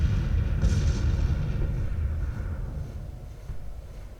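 Continuous rumbling artillery fire from Pelham's battery in the strategy game Grand Tactician: Civil War, a dense, heavy boom-laden roar that fades slightly toward the end, with no talking.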